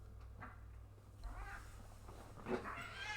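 A house cat meows indoors, a few short, moderately close cries rising through the last second or so over a steady low hum.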